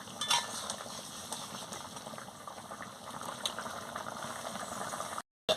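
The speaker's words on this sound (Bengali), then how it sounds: "দিয়ে ভালো করে নাড়িয়ে নিচ্ছি" Sweetened snakehead fish dhoka curry stirred in a pan, a faint bubbling simmer with soft scraping and clicks from the spoon, ending in a brief cut to silence.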